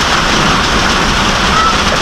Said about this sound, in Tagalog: Malakas kasi ang ulan eh.